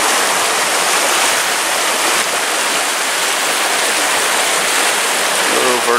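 Water from a spring near an abandoned hillside bridge pours in a steady, loud, broadband rush that runs unbroken through the whole stretch, with no talk.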